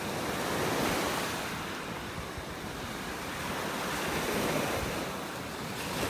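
Ocean surf rolls continuously onto a beach at Delnor-Wiggins Pass State Park in North Naples, Florida, a broad roar swelling and easing under steady wind buffeting the microphone.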